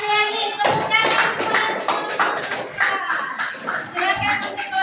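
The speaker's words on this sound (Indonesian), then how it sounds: "Tepuk tangan." Children in a classroom coding and artificial intelligence lesson break into a burst of close hand clapping, a dense irregular patter of claps running throughout, mixed with children's voices and chatter.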